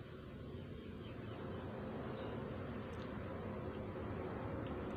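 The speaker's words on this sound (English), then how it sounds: "See, planes going over the roof now." Airplanes pass over a house roof as a faint, continuous broadband roar that holds steady throughout, alone without talk.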